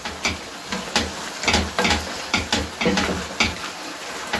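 Beef stew with tomatoes stirred in a pan, a spoon scraping and knocking in a steady rhythm of about ten strokes over a soft sizzle, close and moderately loud, with no voices.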